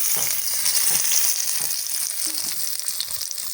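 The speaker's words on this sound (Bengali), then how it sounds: "ষাটি মাছটা কড়ার মধ্যে দিয়ে দিলাম" Shati fish frying in oil in a wok, a steady close sizzle and crackle running unbroken throughout with occasional stirring scrapes.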